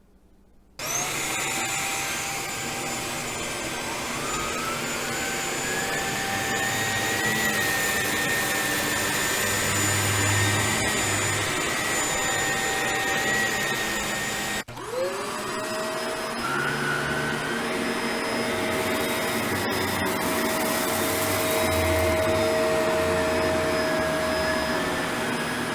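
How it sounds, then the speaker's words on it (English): A Shark NV752 upright vacuum cleaner runs steadily at its single power setting over low pile carpet, a loud continuous whine and motor drone with a brief dip and restart midway, and no voices. "There is no ability to adjust the suction on this vacuum cleaner."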